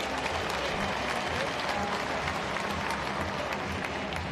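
A crowd at the Bassmaster Classic weigh-in applauds in a dense, even roar of clapping that lasts the whole stretch, steady and fairly distant.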